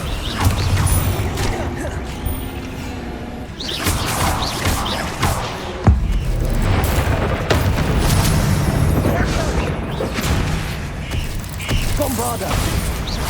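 A Confringo spell explodes in the Hogwarts Legacy video game, with booming blasts and crashing impacts inside a loud, churning battle mix. Mechanical clatter and a sharp hit stand out, and voices call out over the fighting.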